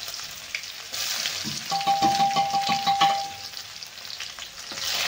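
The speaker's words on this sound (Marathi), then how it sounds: "आता टाकून घेणार आहे आपण अर्धा चमचे जिरे, अर्धा चमचा मोहरी टाकणार आहे. बारीक करून घेतलेला कांदा टाकणार आहे थोडा." Cumin, mustard seeds and chopped onion hitting hot oil, a sudden loud sizzle that swells and pulses in rapid waves with spattering pops, then gradually eases back to a gentler frying hiss.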